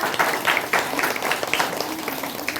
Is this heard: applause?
yes